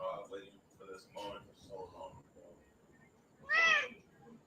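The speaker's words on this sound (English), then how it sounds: "Damn cats are a mess" A cat gives a short, fairly loud meow near the end, after a stretch of people talking.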